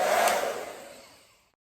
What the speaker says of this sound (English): Okay, so we will diffuse and I'll be right back to see the results.